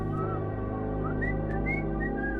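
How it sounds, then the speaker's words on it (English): A lone whistled tune of several wavering, rising notes in the woods, steady and fairly clear over a low background hum. "The same eerie whistle, carrying through the woods"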